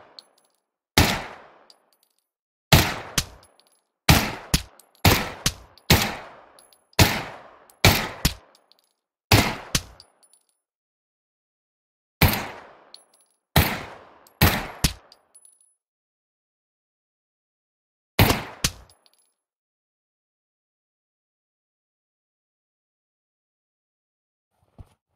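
Gunfire at targets in the Pavlov VR tutorial, sharp single shots and quick pairs spaced irregularly with short ringing tails and silence between, ending after a final double shot.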